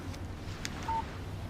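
Short electronic phone text-message alert in the video game Alan Wake, a brief clean beep-like tone over faint background hum.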